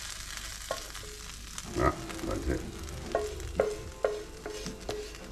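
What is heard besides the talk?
shrimp sautéing in a pan with garlic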